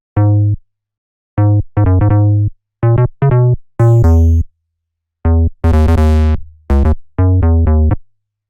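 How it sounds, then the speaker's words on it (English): A plucky classic house bass patch made in Equator2 plays a bouncy riff of short, punchy notes with clean gaps between phrases, one longer note opening up brighter, loud and dry with no talk. "how to make a plucky classic house bass sound that sounds something like this."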